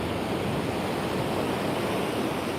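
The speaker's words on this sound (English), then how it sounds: "I'm just chilling by the water, taking in the ocean" Ocean surf by the shore in San Diego gives a continuous, loud broadband wash that stays steady throughout, with no distinct breaking waves and no voices.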